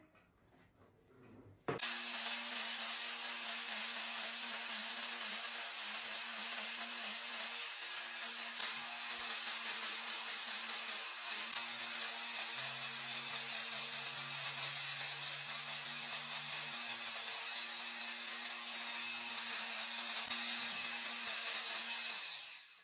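A Hoof Boss power trimmer starts abruptly and then grinds steadily on a goat's front hoof, making a loud, sustained buzzing drone that holds level for about twenty seconds before cutting off.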